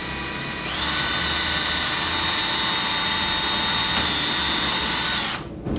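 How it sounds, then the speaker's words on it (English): A power drill drilling a pilot hole to fasten a shutter whines steadily at close range for several seconds, its pitch holding high and even before it cuts off at the end. "First you take your drill with your drill bit"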